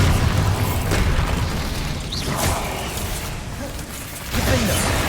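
A Bombarda spell blast in Hogwarts Legacy rumbles through dense, busy battle noise, booming and crackling at a steady loud level before swelling again near the end.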